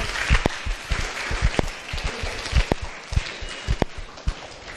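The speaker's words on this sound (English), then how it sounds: "Big round of applause." A school audience claps in uneven, scattered bursts, sharp individual claps rising and falling over several seconds.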